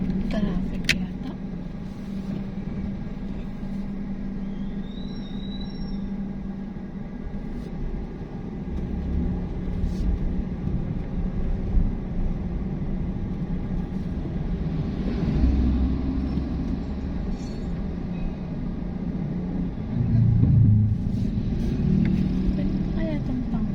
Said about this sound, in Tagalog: Traffic yata.